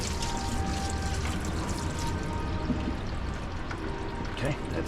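Coolant draining from the lower radiator hose of a 2013 Ram with a 5.7 HEMI engine, a continuous close pouring and splashing of liquid throughout.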